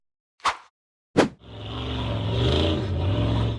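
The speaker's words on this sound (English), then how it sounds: "The green buggy revved hard as it tackled a steep, rocky trail at night." A green off-road buggy's engine revs hard on a steep, rocky trail at night: two short sharp bursts, then a sustained loud, rising roar that holds steady to the end, close by.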